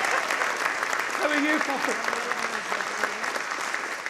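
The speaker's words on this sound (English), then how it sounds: "What about some applause?" Studio audience applauding at a comedy show, a dense sustained wash of clapping throughout, with a voice speaking briefly over it.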